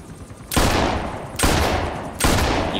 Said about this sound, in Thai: ผู้หญิงยิงปืนลูกโม่ด้วยมือเดียวนะครับ